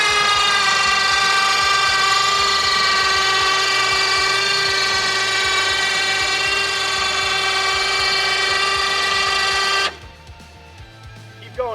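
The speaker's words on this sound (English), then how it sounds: "We've got one final test for the winch." An electric winch on the MUD-11 off-road vehicle hauls it up while strapped to a Kubota, giving a loud, steady motor whine for about ten seconds before cutting off, followed by a few low knocks.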